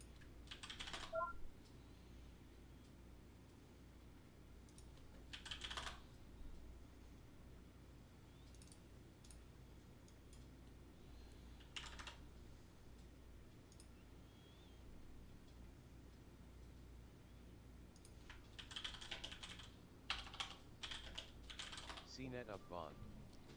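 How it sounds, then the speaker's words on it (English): Bursts of typing on a computer keyboard during live stock day trading, quick clusters of clacking keys separated by quiet pauses, fairly faint and close. "I don't know why I keep typing that in caps."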